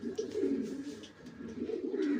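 A pair of caged pigeons cooing softly in repeated low, throaty phrases, close but quiet, with no other sounds.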